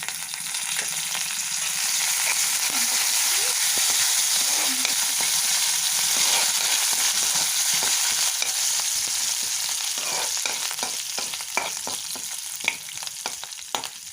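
Continuous crackling sizzle of curry leaves frying in hot oil tempering, bright and close, with a few sharper pops and stirring clicks toward the end.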